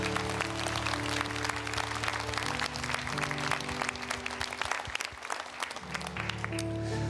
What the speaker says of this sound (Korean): 우리 더 큰 박수로 주님을 높여드립니다.